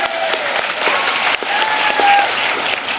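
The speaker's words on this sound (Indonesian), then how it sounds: "Tepuk tangan sik rawowo" Applause from a crowd at an Islamic religious lecture gathering in Temanggung, a dense, steady wash of clapping filling the moment, with a faint whistle-like tone drifting through.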